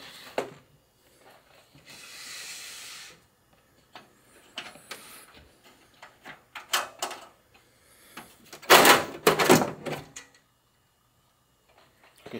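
A side panel comes off a Dell XPS 8940 desktop chassis with sparse clicks, scrapes and a few sharp clatters, fairly quiet and close, separated by short pauses.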